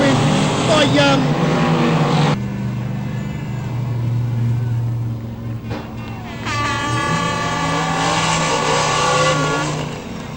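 Stock cars racing at Eastern States Speedway in a 2000 New Zealand championship, a loud continuous engine roar with shifting tones as cars pass, running under steady commentator talk throughout.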